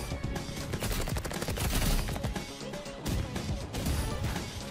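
Grenade explosions in the Roblox Rivals shooter, a fairly faint, busy stretch of rapid crashing bursts and gunfire-like cracks layered together with only brief dips between them.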